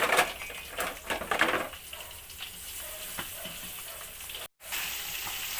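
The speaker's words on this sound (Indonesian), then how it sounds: "Habis itu cabenya digoreng." Chili peppers for sambal frying in a pan make a soft, steady sizzle, with louder clattering and crackling early on and a brief dropout near the end.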